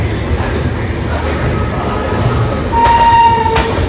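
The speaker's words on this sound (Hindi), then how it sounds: "देखते हैं हमारी ट्रेन चल पड़ी।" The Shan-e-Punjab passenger train pulls away from a station toward Amritsar, a steady low rumble of rolling wagons with a short horn-like tone near the end.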